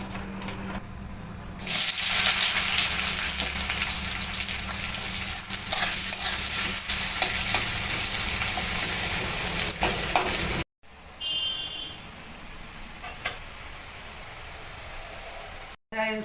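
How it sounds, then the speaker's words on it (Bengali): Marinated meat masala for a banana-leaf meat dish frying in a pan, a loud close hiss with scraping stirs that cuts off midway to quieter clatter and faint voices. "এবার এটাকে মেখে নেব অল্প করে এবং মশলাটা ভেজে নেব"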